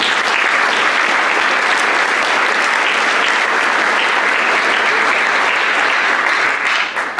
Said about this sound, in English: So let's give a round of applause to the chorus.